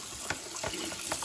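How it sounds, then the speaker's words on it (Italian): Cold water running from a tap while an Electrolux tumble dryer filter is rinsed, a short steady splashing stream with small spatters, close and moderately loud. "Io uso l'acqua fredda perché l'acqua calda"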